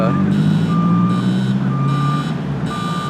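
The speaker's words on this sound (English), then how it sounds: "inmate transport vehicle coming out of the holding facility here at the San Luis Obispo County Courthouse." Inmate transport vehicle pulling out of a county courthouse holding facility, its reversing alarm beeping in a steady repeating pattern over a loud, constant engine rumble close by.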